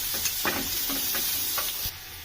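Chopped onion and garlic sizzling in hot oil, a dense continuous hiss with a few soft stirring strokes, close, easing slightly near the end.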